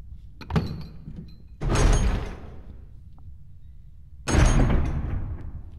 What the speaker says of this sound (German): Was erwartet uns hinter dieser Tür?